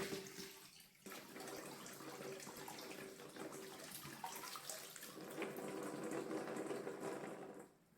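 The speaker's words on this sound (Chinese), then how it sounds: "用流动的清水再多冲洗一下" Kumquats being rinsed under running tap water in a kitchen sink, a steady soft splashing stream that pauses briefly near the start and then continues, faint and close.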